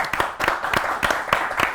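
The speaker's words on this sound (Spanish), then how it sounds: "lo recibimos con un fuerte aplauso." A small audience claps at a talk event, giving a short patch of sparse, uneven handclaps, moderately loud, with no voices over it.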